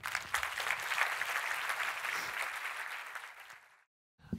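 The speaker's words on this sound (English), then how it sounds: "round of applause to Julie, please." A conference audience applauds after a keynote speech on ad tech mergers and acquisitions, steady dense clapping that gradually thins and stops.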